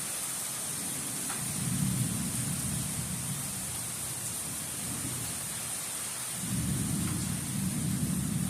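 Deep rolling thunder rumbles in two long swells over a steady hiss of rain, with no one speaking.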